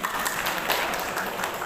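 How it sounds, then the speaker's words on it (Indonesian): A brief round of applause from a gathering of hospital health workers, soft and somewhat distant, a short patter of many hands clapping with a low room rumble underneath. "Tepuk tangan dong"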